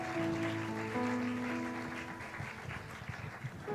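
A Sunday worship congregation applauds in a church, a dense sustained clapping that is loud at first and thins toward the end, with a tonal hum or organ underneath.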